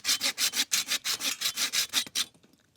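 A hand saw cuts through dead, dried Shine Muscat grapevine wood in about a dozen quick, even rasping strokes up close, then stops.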